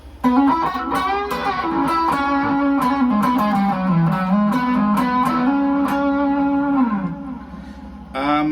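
A sustained electric guitar tone from a Fender partscaster on the neck pickup, with warm, rounded sustain and a slightly gritty edge, notes sliding and held for several seconds before stopping.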